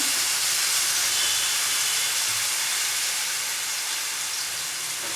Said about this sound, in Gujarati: હવે હાંડવાનું બેટર નાખી દઈશું.